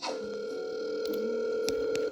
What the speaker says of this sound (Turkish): İşte çalıyor.